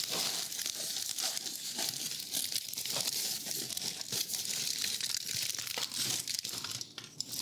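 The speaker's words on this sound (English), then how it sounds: "So this foil sling helps it come out of the pan easier." An aluminium foil sling is crinkled and handled in a pan for a no-bake coconut rum chocolate fudge. The close, continuous crackling rustle carries on without pause.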